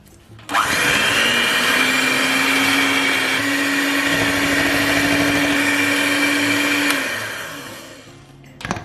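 Electric mixer beating cream cheese for a no-bake blueberry cheesecake, a loud steady whir that starts abruptly, holds its pitch for about six seconds, then winds down and stops, close to the mic with no talk.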